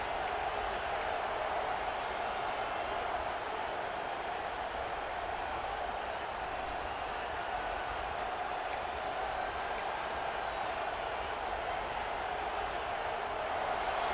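Stadium crowd in a college football video game roaring at full throat, a dense, unbroken roar holding steady at moderate level for the whole stretch, with no commentary over it.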